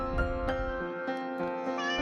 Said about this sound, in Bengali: মিউ মিউ ডাকে বিড়াল।